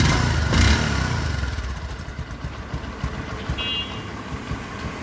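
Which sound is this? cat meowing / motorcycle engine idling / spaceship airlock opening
motorcycle engine idling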